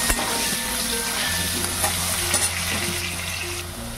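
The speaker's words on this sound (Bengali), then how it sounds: "আলুগুলো বেশ একটু লাল লাল করে ভাজবো" Potato pieces with salt and turmeric fry in a pan, a loud close sizzle with occasional stirring clinks and a faint steady hum underneath.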